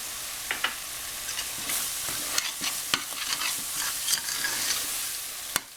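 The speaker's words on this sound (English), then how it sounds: "I'm going to let it fry for about 2 to 5 minutes" A Guyanese curry mixture for gilbaka fish curry fries in a pot with a steady, close sizzle, broken by scattered sharp crackles and pops and a few stirring scrapes.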